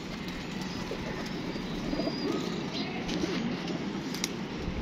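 Pigeon cooing low and soft against steady outdoor background noise, several brief murmuring coos in the middle of the stretch, with a faint rustle throughout.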